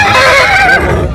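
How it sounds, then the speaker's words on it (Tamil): A horse neighs loudly and close by at a horse fair during a festival in Anthiyur, one long quavering whinny that fades toward the end. "இங்கே பாருங்க மக்களே குதிரை"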